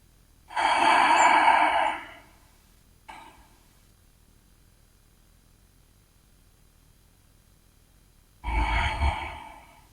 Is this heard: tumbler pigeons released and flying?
no